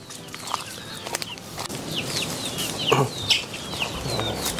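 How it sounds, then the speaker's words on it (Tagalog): Native chickens roam a farm, some with darag bloodline, giving scattered clucks and a few louder squawks close by over a soft outdoor bed. "Ito yung mga native nating manok."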